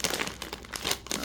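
A snack bag is cut open with scissors, giving a burst of sharp crinkling and crackling plastic sounds in quick irregular pulses, close and moderately loud.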